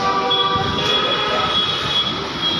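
A metro train rumbles past near a station, a steady close roar of wheels on rails with a faint high squeal, continuous and loud throughout.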